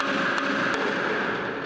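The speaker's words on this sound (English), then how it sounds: "I'm gonna use a punch to create a little divot" A hammer striking a metal punch set against a round metal post, two sharp quick taps close by over a steady background hum.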